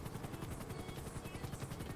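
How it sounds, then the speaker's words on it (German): Helicopter flying in the video game GTA 5, a steady rotor drone with a low pulsing throb that stays constant and fairly loud for the whole stretch, with no voices. "Also Hubschrauber fliegen ist auch nicht mein Ding."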